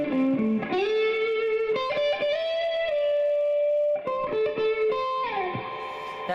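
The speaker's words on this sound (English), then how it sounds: "I'll use this for the lower parts of the song that still need distortion." An electric guitar played through a distortion pedal rings out sustained, gritty notes and bends with held tones, a short pause, then more driven phrases, loud and close with no talking.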